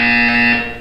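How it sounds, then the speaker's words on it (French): A buzzer in the video game Portal 2, a loud, steady electronic tone with strong harmonics that holds for about half a second before fading. "You will hear a buzzer."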